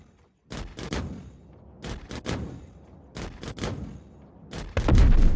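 Ballistic ammunition fired from weapons in a video game, sharp loud shots arriving in clustered bursts of two or three with brief pauses, ending in a heavier sustained rumble.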